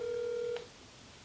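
A phone's ringback tone during an outgoing call, one steady electronic beep lasting about half a second, then a brief quiet line and a short electronic blip at the end.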